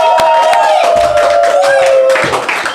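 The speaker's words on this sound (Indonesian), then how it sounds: "Tepuk tangan." Studio audience clapping at an Indonesian stand-up comedy show with a comedian doing impersonations, scattered sharp claps and crowd noise mixed under loud, close talking and laughter.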